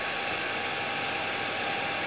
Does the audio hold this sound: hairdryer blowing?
yes